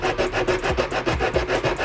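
Steady back-and-forth sanding strokes on a plastic taillight from an Acura RSX, close and loud. The rasping rubs repeat in a quick, even rhythm of about six strokes per second, with no voices.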